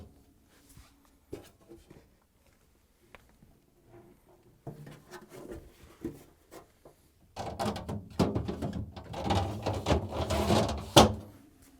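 A Frigidaire/Electrolux refrigerator crisper pan is slid onto its rails: scattered light plastic clicks and knocks, then a louder stretch of sliding and scraping near the end, with no voices.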